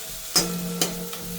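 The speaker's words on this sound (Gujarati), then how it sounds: "આપણે આમાં માવાને બરોબર શેકી લેવાનો છે" Mawa (milk solids) roasting in a pan for gundar pak, scraped and stirred with a few distinct strokes over a low, steady sizzle, close by and alone.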